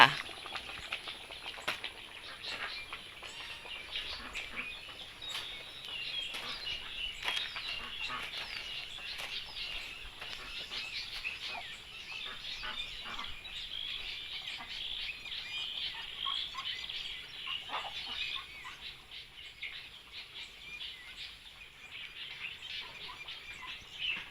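Ducks quack repeatedly over a constant wet hiss of rain and flowing water, their calls irregular and mid-distance, continuing throughout.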